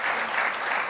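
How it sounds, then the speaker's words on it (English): Steady, dense clapping from a conference audience at Codemania 2015 welcoming volunteers to the stage, a loud, even roar of many hands with no voices over it. "Round of applause for our volunteers."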